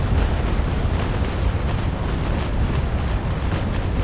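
Ship cannons fire in the naval battle game Naval Action, making a dense, loud rumble of booming shots that run together for four seconds.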